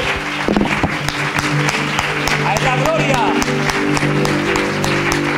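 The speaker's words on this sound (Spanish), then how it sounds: "apláudele más fuerte" A church congregation applauds continuously throughout, a steady wash of clapping under a loud preacher's voice and background music or singing.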